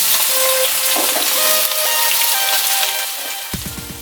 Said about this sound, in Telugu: నూనె వేడెక్కింది కదా, ఇప్పుడు దొండకాయ ముక్కలు వేసుకుందాం